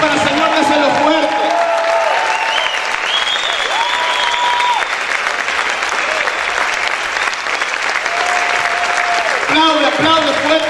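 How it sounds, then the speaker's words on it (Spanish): A church congregation breaks into loud, sustained applause, while a preacher's voice rises and speaks over the clapping in melodic, drawn-out phrases. "Sus aplausos para el Señor, déselo fuerte."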